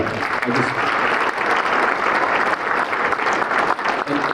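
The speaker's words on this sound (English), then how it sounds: "could we just give a round of applause to the city?" A crowd at a community charity event applauds a city in a steady, dense round of clapping that stays loud and continuous throughout.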